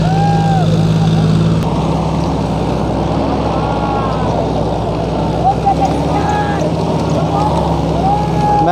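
A John Deere 5042 D (44 hp) and a Mahindra 575 DI (45 hp) tractor run side by side outdoors, a loud, steady diesel rumble with wind noise, while someone talks over it.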